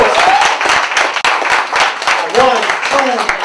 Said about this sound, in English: Clap it up for him one more time.